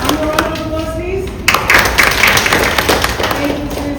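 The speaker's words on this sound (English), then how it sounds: "Round of applause, please." Audience applause at a UN House event in Tanzania, a scattered patter of claps that rises after a spoken introduction and continues under light voices and room noise.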